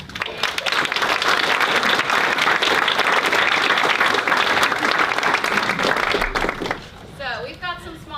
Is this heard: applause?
yes